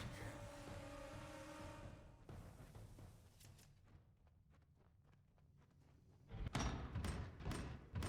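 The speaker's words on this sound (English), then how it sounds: "These daggers make little explosion sounds every time they land a hit." Dagger strikes in the fantasy action game Kingdoms of Amalur: Reckoning land with small, sharp explosive pops and thuds, scattered through combat noise and bunched into a louder burst of hits near the end.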